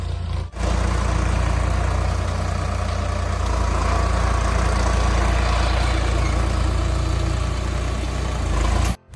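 A tractor works a field close by, its engine a steady, loud low rumble that runs almost unbroken for the whole stretch, with no voices over it.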